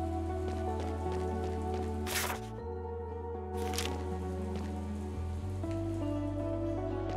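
Heavy rain in the video game Chained Echoes patters continuously over a sustained musical backdrop, with a couple of brief bursts of louder splashing.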